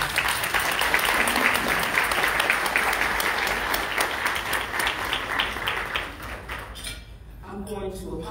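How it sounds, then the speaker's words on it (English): Audience applause at a foundation luncheon, steady and full for about six seconds before thinning out, with faint clinks of dishes and cutlery and some voices in the room. "Give her another round of applause."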